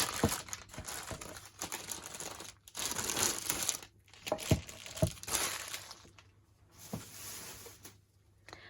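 Plastic packaging crackles and crinkles as it is crumpled up for the bin, a busy run of sharp rustling bursts with brief pauses, close and fairly loud, with no talking over it.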